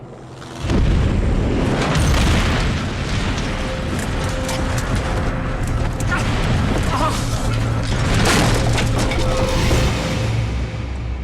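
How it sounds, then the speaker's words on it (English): A plane crashes into an escarpment with a sudden heavy crash and booming impact, followed by sustained roaring, rumbling debris noise that stays loud throughout, with a voice faintly underneath. "The plane is shattered on impact."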